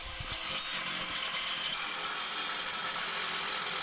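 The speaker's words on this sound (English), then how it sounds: "As you hear the electric jackhammer" A continuous harsh mechanical rattling and grinding from an electric jackhammer in an excavation tunnel sounds steadily at moderate distance without any talking.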